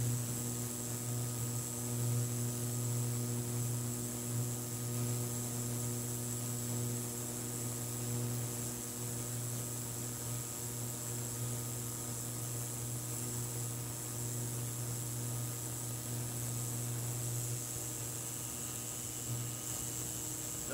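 A Deep-N-Hock ultrasonic cleaner runs with a steady, low electrical hum and a faint high-pitched whine, unchanging and fairly quiet throughout with no voices.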